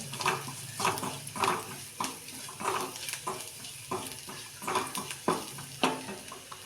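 Okra sautéing in a pan after coriander-cumin powder is added, with a steady sizzle and a rhythmic series of stirring scrapes about every half second, close and fairly quiet, with no talking.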